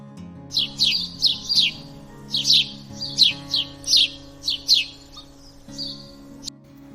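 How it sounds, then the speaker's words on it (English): A bird chirps in quick bright bursts, about a dozen sharp tweets in short clusters over a low steady hum, with no talking. "Bird 鸟"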